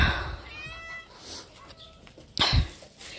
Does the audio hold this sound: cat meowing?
yes